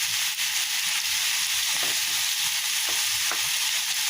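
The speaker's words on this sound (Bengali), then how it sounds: "একটু নেড়ে চেড়ে একটু শুকিয়ে নিতে হবে" Chopped banana stem cooks in a pan as a stir-fry, giving a continuous bright hiss of frying. A few faint scrapes sound as it is turned, and no one speaks.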